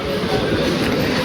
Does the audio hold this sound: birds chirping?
no